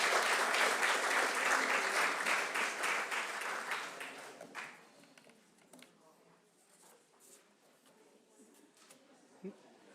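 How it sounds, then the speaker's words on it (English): Audience applause fills a council chamber during a rededication ceremony, a fairly dense round of clapping that fades out after about four seconds, leaving scattered faint sounds and low murmur. "how about a round of applause for their leader, Barbara Scabelli?"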